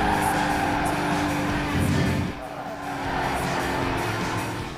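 A race car in Gran Turismo 5 drones at high revs late in a race, the engine note steady and loud, dipping briefly as it shifts and then building again.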